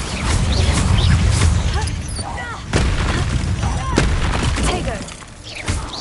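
Fire spells cast during combat in the Hogwarts Legacy video game, with crackling bursts and thumping impacts in quick succession over a busy game soundscape while a voice calls out.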